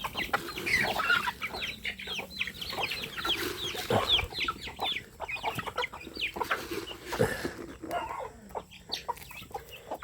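Many chickens, mostly laying hens, cluck and chatter at once while being fed, a busy flock with overlapping calls and soft pecking sounds, close by and steady throughout.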